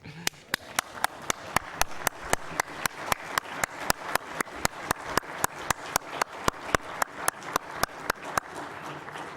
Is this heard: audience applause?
yes